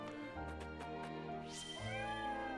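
A cat in the video game Triangle Strategy gives one rising, drawn-out meow over background game music, with no talk.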